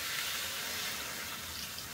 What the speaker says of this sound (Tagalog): Lagyan natin siya ngayon ng konting tubig.